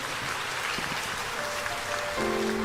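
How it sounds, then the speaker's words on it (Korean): Church congregation applauding after worship, a dense, even patter of many hands clapping at once, moderately loud, with a sustained musical tone entering near the end. "주님께 영광의 박수를 드리겠습니다."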